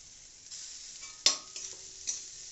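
Lentil dal with garlic and ginger paste being stirred in a pan, a soft sizzle punctuated by a sharp utensil clank and a few lighter scrapes.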